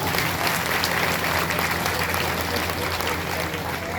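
An audience at a devotional gathering in a Mahadev temple math in Hadgaon claps loudly and continuously, a dense, steady roar of many hands filling the space with murmuring voices underneath.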